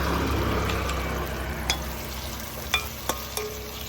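Garlic and ginger hit hot oil in a pan, giving a steady sizzling hiss that fades slightly, then a few sharp clicks and scrapes from the spoon near the end; no one speaks.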